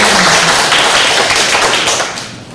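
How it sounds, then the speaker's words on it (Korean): An audience at a riverside otter day event claps loudly and densely together, a close, full burst of applause that tapers off toward the end. "뜨거운 박수를 좀"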